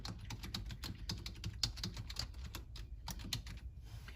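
Rapid, fairly quiet typing on a computer keyboard while a free-text addendum is entered into a patient progress note, with steady irregular key clicks and no talking.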